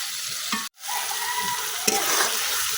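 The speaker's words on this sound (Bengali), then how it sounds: "এখন টমেটোটা কিছুক্ষণ কষাই নেন" Tomatoes stir-fried in a spice paste whose oil has separated, with a dense, loud sizzle up close, broken by a brief dropout and a couple of spoon scrapes against the pan.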